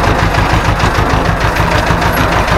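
Ursus C330M tractor engine running steadily at a low, even throb, close and loud, with constant mechanical rumble and no pauses throughout.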